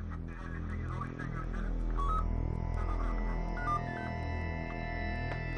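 A telephone is dialed in a drama scene: a sequence of short tonal beeps rises and steps over a steady droning background, with faint, close and continuous tones.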